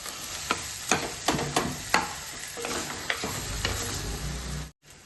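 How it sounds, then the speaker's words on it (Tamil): Potatoes sizzle steadily in a hot pan while a utensil scrapes and stirs with irregular clicks, close up and with no talking. "உருளைக்கிழங்கு போட்டு வதக்கிட்டு இப்போ தண்ணி ஊற்றலாம்"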